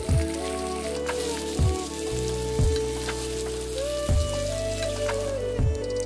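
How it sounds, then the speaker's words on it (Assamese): Chopped onions fry in oil until reddish-brown for a duck meat curry, a soft, steady sizzle that sits under louder background music with repeating low tones. "মই পিঁয়াজখিনি ধুনীয়াকৈ ৰঙচুৱাকৈ ভাজি ল'ম"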